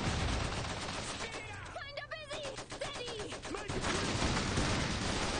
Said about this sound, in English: Oh, machine guns.